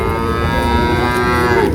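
A cow at a busy cattle market in Gazipur gives one long, loud, drawn-out moo that rises slightly at the end, over a steady murmur of crowd noise.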